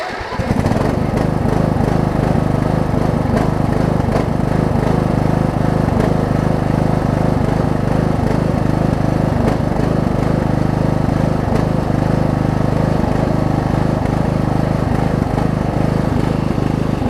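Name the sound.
Craftsman riding lawn mower engine running, pulsing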